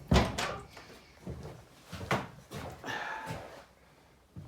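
Door of a sawmill tooling room being handled and shut, several knocks and thuds spread over a few seconds, close by with rattles in between.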